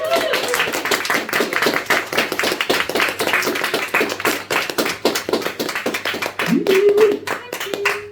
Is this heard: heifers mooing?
no